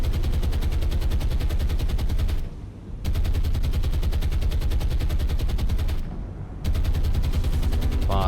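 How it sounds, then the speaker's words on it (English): Naval guns firing during a simulated cruiser sea battle, heard as sustained rapid bursts of gunfire that cut out twice briefly before resuming, loud and unbroken between pauses. "Guns are still firing."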